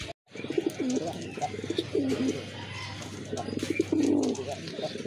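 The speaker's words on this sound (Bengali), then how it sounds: "খুবই অ্যাক্টিভ কবুতর, দেখার মতো সেই লেভেলের ডাকে কবুতরগুলো" Several pigeons coo in low, repeated throaty phrases, pairs of display birds of colourful domestic breeds kept for sale, close and fairly loud with soft background bustle and faint chirps.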